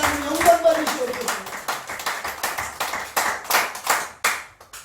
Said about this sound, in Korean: 우리 모두 하나님께 영광의 박수를 올려드리겠습니다